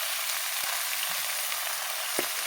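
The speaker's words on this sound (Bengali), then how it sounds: "ওই তেলে আমি ভেজে নেব বেগুনটা" Salted eggplant pieces frying in hot oil in a pan make a constant bright sizzle, close and even, with a couple of brief clinks and no talking.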